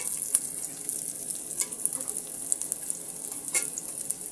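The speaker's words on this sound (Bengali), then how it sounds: "এখানে আমি ঘি নিয়েছি, পেঁয়াজ নিয়েছি এবং মশলাগুলি একসাথে সুন্দর করে ভেজে নেব।" Onions and spices frying in ghee for pilaf, a steady soft sizzle with faint crackles and a few brief clinks, heard close and alone.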